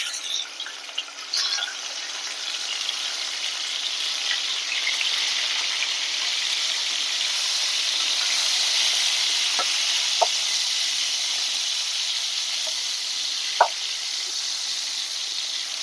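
Hilsa fish frying in a pan of oil, a steady bright sizzle held close and loud throughout, with a few light clicks of stirring or turning.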